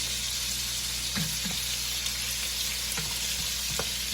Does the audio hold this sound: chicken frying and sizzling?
yes